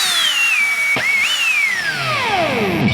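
A Makita power drill motor whines loudly and alone, its pitch sliding up and down before a long falling wind-down.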